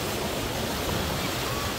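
Sea waves breaking along the shore at Recife, Brazil, with rising sea level, heard as a steady, broad rushing wash of surf close by and fairly loud, with no voices.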